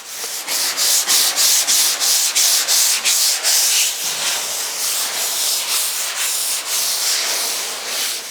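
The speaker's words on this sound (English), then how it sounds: "check it with your sandpaper" Sandpaper rubbed over the steel hood of a 1956 Chrysler 300 during dent repair, loud close rhythmic strokes about twice a second, later blending into a more continuous scrape.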